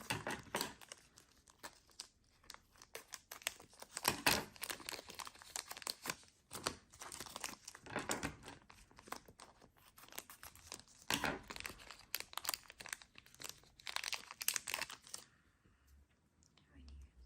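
Danone Süprix snack wrapper being torn open and crinkled close up, irregular bursts of plastic crackling and tearing, fairly quiet, stopping abruptly near the end.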